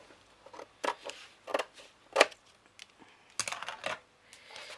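Scissors trim paper for a folded 12 x 12 mini album, a few short separate snips and crisp paper clicks spaced irregularly, close and fairly quiet, without speech.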